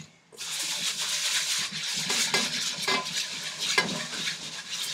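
Rice grains are swished and rubbed by hand in a pot of water, making a close, continuous gritty scraping and sloshing with small surges.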